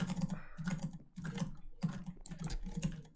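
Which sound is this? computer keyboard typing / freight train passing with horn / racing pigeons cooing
computer keyboard typing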